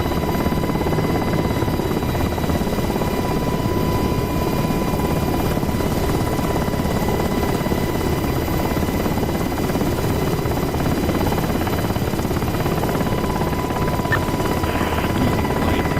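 Steady, loud rotor and turbine drone of an Apache AH-64D attack helicopter in the DCS World flight simulator, continuous and unbroken throughout with a constant thrumming hum and no talk.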